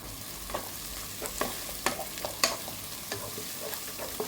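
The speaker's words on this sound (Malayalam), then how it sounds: "അതിൽ തന്നെ നമ്മുടെ ക്രഷ്ഡ് ചില്ലി അങ്ങോട്ട് ഇട്ട് കൊടുക്കാം." Crushed chilli sizzles steadily in a pan with okra while a spoon stirs it, scraping and clinking in irregular strokes over a constant frying hiss, close up and with no talking.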